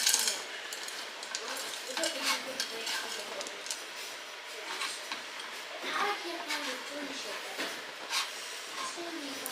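Spoon scraping and clinking against a pan while peanut butter and chocolate chips melt together over medium heat, soft irregular stirring strokes with faint sizzle, under quiet background.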